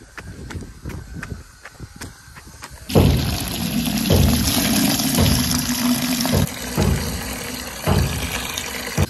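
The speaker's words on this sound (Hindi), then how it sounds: "पानी बाल्टी में भर लिया है" Tap water filling a bucket to give a sacrificial dumba sheep a drink, first as thin trickles and drips, then a loud steady gushing stream close by with occasional clunks, no talking.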